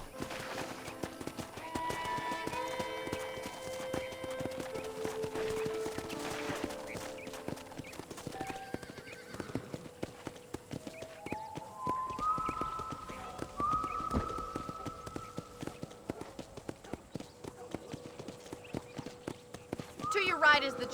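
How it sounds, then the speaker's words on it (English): Horse hooves clip-clopping steadily while riding around a ranch in Red Dead Redemption, a continuous rhythmic trot under game music and a voice talking throughout. "let's see if you can still ride a horse"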